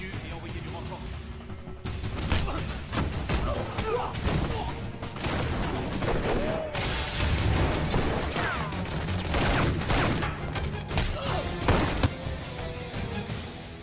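Gunfire from an action scene in The Mechanic (2011): repeated sharp shots and bursts crackle over a dense, loud backdrop of music and effects, with a voice speaking over the whole scene.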